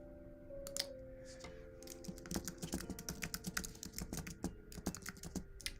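Someone types on a computer keyboard, starting with scattered keystrokes and settling into a quick, fairly steady run of close, crisp clicks over faint background music.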